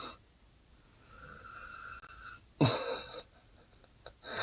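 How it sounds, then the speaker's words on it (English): A dog snoring while fast asleep, a few soft snorting breaths building to a louder rasping snore near the middle, close by with no talk over it. "are you fucking snoring?"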